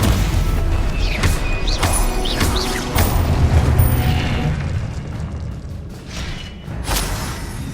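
Spell blasts and explosions from the Hogwarts Legacy video game rumble loud and continuously, with repeated booms, crackling bursts and sharp impacts layered over a heavy low roar.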